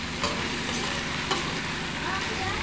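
Chicken pieces browning in their own rendered fat give a continuous close sizzle and stirring scrape, an even frying hiss with a couple of sharp spatters.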